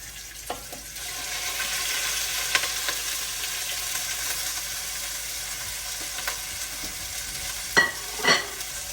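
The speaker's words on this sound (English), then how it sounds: "I don't want all that grease popping on my stove." Ground chicken frying in olive oil in a Dutch oven, a steady close sizzle with occasional stirring scrapes and a few sharper pops near the end.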